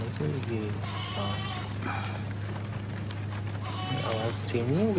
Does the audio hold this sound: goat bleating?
yes